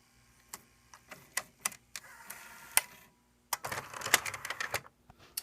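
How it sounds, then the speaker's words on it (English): A 1990s Tascam DA-20 DAT digital audio tape deck ejects its tape: a run of crisp mechanical clicks and clacks, a short pause, then a denser burst of whirring and clattering as the mechanism opens, close and fairly quiet. "I'll go ahead and eject this so you can see what that looks like"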